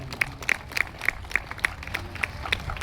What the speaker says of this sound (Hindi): इसके लिए भी जोरदार तालियां हो जाए